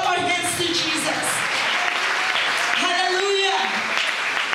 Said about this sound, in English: Come on, let's clap our hands to Jesus.